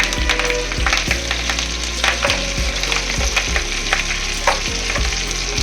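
Drumstick leaves dry roasting and being stirred in a pan, a steady close crackling sizzle with regular scraping strokes of the spatula about once a second, no voices.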